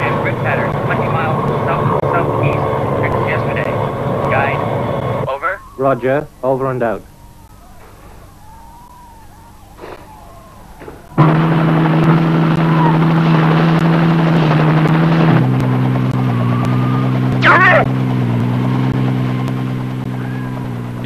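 Helicopter flying over Greenland to track seals: a steady, loud rotor and engine drone that cuts out partway, leaving a quieter stretch, then returns at full strength, with a radio voice speaking over it.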